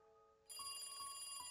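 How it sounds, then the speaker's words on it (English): A telephone rings in a school's teacher's office in the Higurashi When They Cry visual novel, three repeated electronic trills sounding clearly over a steady tonal music bed. "I heard a phone ringing in the teacher's office."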